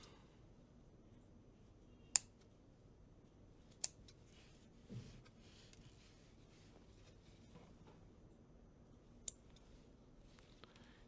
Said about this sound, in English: Just cut the two ends first.